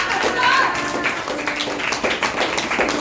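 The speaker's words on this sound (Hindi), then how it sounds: "धन्यवाद दो, ताली बजाकर" A church congregation claps hands in thanks during a service, a brisk burst of many overlapping claps heard at close range.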